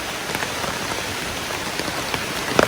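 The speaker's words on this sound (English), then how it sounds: "I haven't been excited to see this rain in a long time." Steady rain falls outdoors around a Dragoon Ridgeback bivy-style tent, a dense, even hiss of drops with a few louder taps near the end.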